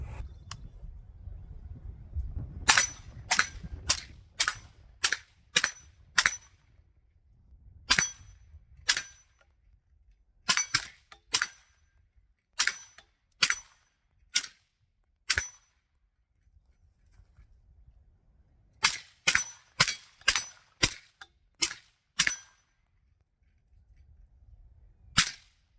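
Suppressed rounds fired through a firearm suppressor, a series of sharp, clean cracks, some in quick runs of four or five, others single, with near-silence between them.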